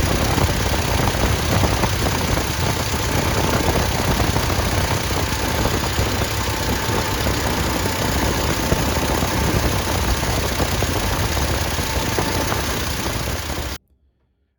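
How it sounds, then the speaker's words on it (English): A tractor engine idles steadily after a fuel line leak repair, a loud, even, close running drone that continues unbroken for about fourteen seconds before cutting off abruptly. "we fired up the tractor, we ran it for about 10 minutes and no leaks"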